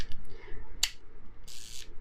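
The self-timer of a 1963 Lomo vintage 35mm film camera runs with short mechanical clicks and a brief whirring buzz, ending in a sharp shutter snap, close and alone.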